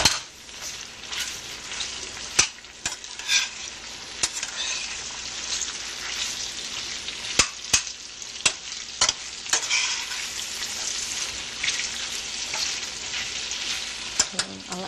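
Imitation lobster sautéing in a hot pan while being stirred: a steady close sizzle with sharp scrapes and clicks of the utensil against the pan, no talking.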